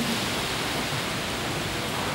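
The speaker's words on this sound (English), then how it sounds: "It's kind of cool though because it's pouring rain." Heavy tropical rain pouring steadily on a boat during a tropical storm, a dense, even hiss that stays constant from start to finish with no voices.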